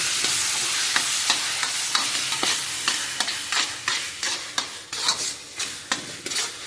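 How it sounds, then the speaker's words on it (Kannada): Masala spices frying and sizzling in a pan for Malabar spinach (basale) sukka, a Tulu Nadu dish, with steady hiss and repeated scraping stirs of a spoon against the pan throughout, close and fairly loud, no talking. "ಮಸಾಲೆ ಹಾಕಿದ್ದೀನಿ ನೋಡಿ ಮಸಾಲೆ ಹಾಕಿದೆ ನೋಡಿ ಮಸಾಲೆ ಫ್ರೈ ಆಗಲಿ"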